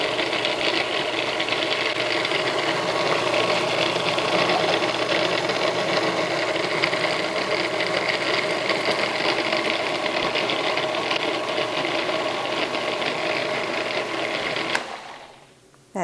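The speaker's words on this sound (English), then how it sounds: "Now I'll turn my food processor on." A kitchen food processor whirs at a steady, close mechanical hum for about fifteen seconds, then cuts off abruptly near the end.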